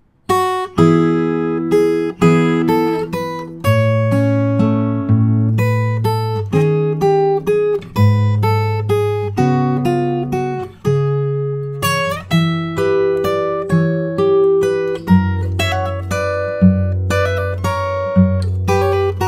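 Fingerstyle acoustic guitar plays the Howl's Moving Castle theme from the start: a steady stream of plucked bass notes and melody, close and clear, with no talking.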